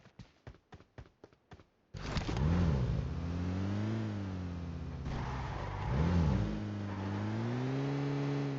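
A car engine in PUBG Mobile starts after a few quick rhythmic clicks, then revs up and settles into a loud, steady drone that swells twice with acceleration, close and alone without talk.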